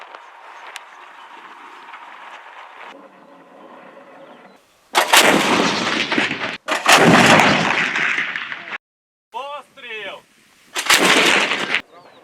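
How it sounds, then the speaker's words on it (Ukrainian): Several loud, booming artillery cannon blasts go off in separate bursts at a Ukrainian border guard training, each followed by a rumbling echo, with quieter gaps and faint background noise between shots. "З цієї гармати я стріляв перший раз."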